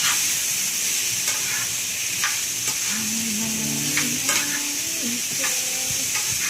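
Fish frying in a pan gives a loud, steady sizzle close by while a utensil stirs it with occasional scrapes and clicks, and faint tonal sounds run underneath.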